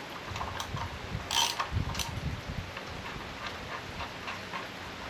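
A bolt is broken loose with a hand tool on a Stihl MH710 rototiller, giving faint, sparse mechanical clicks and a brief scraping burst over quiet background hiss.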